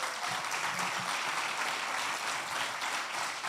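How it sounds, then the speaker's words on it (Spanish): Applause from a church congregation gathered for a worship service, a dense, steady wash of many hands clapping that fills the whole stretch at even loudness with no talk over it. "Dale un fuerte aplauso al Señor."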